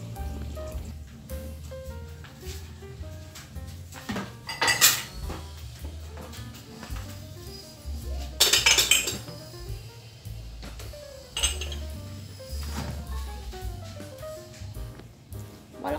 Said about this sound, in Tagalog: maghuhugas na ako ng plato